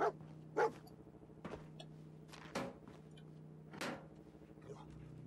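Dog barking in the video game Fallout 4, a few sharp, separated barks at moderate distance over a low steady hum, with a voice briefly heard between them.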